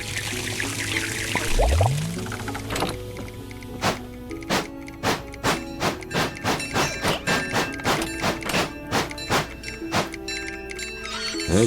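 Steam locomotive taking on water in a train video game: a pouring gush and rising tone, then a long run of rhythmic mechanical thumps and clanks, loud and regular, with no talk.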